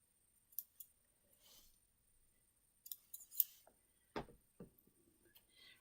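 Scissors snip at a cord in a quiet sewing room, a few sharp, close clicks and cuts separated by pauses, faint and isolated against near silence.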